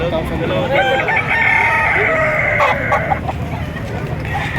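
A rooster crows loudly and close at a gamefowl market in Padre Garcia, Batangas, one long drawn-out call with clucking and other fowl around it, while someone talks nearby.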